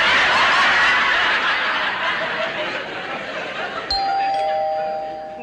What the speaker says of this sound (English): That's the door. Sound like a bell.